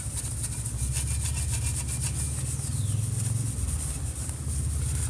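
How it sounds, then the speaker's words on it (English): Steady rhythmic scrubbing of painted metal classic VW engine tin to dull its shine, a continuous rasping rub against a hard surface, loud and close, with a low mechanical hum running underneath. "Scrub it hard enough to knock the shine off of it."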